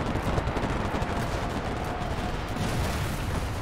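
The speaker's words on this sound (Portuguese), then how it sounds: "Tacaram bomba aqui em mim." Bomb blasts and heavy gunfire in the Normandy D-Day battle of the video game Enlisted, a dense continuous roar of explosions and shots with no talking.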